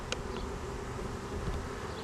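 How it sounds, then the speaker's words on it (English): Honeybees buzz steadily around a freshly moved white hive box as confused returning field bees circle it, a dense continuous hum close by with no break or voices. "returning field bees that are a little confused as why their box turned white"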